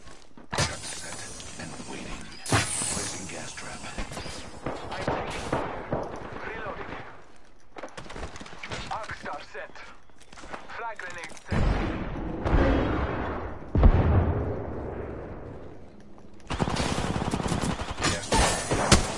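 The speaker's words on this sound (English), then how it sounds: "Shooting at you?" Gunfire bursts in the battle-royale shooter Apex Legends, loud dense volleys coming in waves across the whole stretch, broken by brief lulls, with voices talking over the fighting.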